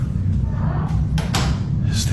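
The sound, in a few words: door closing or slamming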